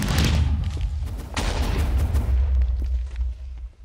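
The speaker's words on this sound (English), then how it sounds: "I'm gonna shoot your fan in the face." Gunfire in the shooter game IronFall, a dense, loud burst of booming shots and thuds, heaviest at the start and again midway, trailing into lighter rattling near the end.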